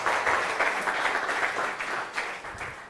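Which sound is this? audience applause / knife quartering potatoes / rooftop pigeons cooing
audience applause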